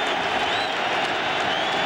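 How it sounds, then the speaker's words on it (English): A football stadium crowd at a 2000 Miami versus Syracuse college game roars in a steady, dense wash of cheering and applause, loud and continuous throughout without any clear speech. "Crowd again, getting into it."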